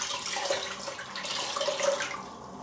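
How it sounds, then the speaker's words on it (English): Cold tap water splashes steadily against a face over a sink, a continuous close wash of running and spattering water with small droplet flicks and no talking. "Get some of that cold water on my face."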